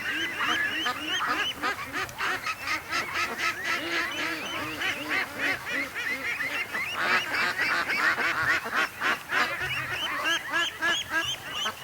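A large flock of ducks calls from a creek in a dense, continuous chorus of rapid honking quacks, loud and overlapping for the whole stretch.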